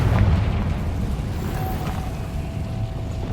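Confringo fire spell from Hogwarts Legacy bursting with a loud, rumbling blast that settles into a sustained low roar and crackle, alone without voices.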